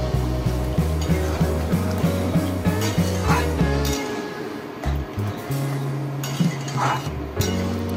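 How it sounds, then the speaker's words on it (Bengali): A pan of potol and potato curry with spices is stirred steadily, the spoon scraping and clinking against the pan in a regular rhythm, close and fairly loud, with no talk. "আবারও একটু জল দিয়ে কষিয়ে নিচ্ছি।"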